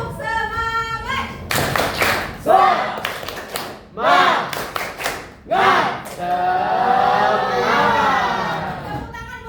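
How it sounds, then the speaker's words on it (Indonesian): A class repeats the tepuk semangat routine, clustered rounds of sharp hand claps interleaved with shouted group chanting, loud and near, opening with a teacher speaking. "Sekali lagi ya. Tepuk semangat."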